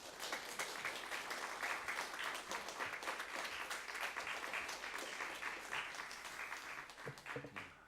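A church congregation at a Sunday worship service claps to welcome the pastor, a steady wash of applause that is fairly faint and distant, continuing throughout with no talking.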